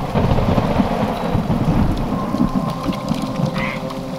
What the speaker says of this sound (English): today's rain shower marks the very end of this year's monsoon and the start of the dry season